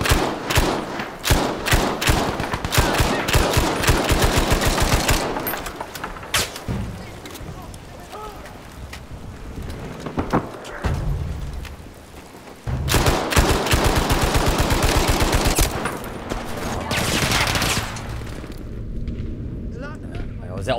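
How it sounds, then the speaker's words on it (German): Gunfire in Battlefield V: rapid automatic bursts and single shots crack loudly in repeated volleys, broken by dull thuds and short lulls, while players talk in German over the shooting. "Sehr auffälliges Schießen, aber ein bisschen was geschafft."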